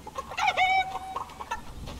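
A chicken in the video game Fortnite gives a loud, close burst of clucking with a squawk, a few sharp bird calls within about two seconds.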